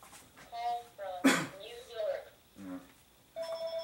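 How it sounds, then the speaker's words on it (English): A telephone rings in a workshop, sounding as two short bursts of electronic ring tones with people talking between and around them. "there's the phone"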